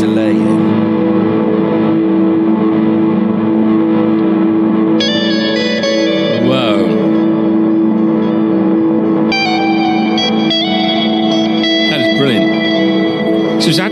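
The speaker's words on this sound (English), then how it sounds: "It's the reverse delay. The reverse delay goes into a bit crusher." Guitar chords sent through a reverse delay into a bit crusher, producing a loud, sustained, reverberant wash with swelling reversed tones and gritty, digitally crushed harmonics that shift in bursts throughout.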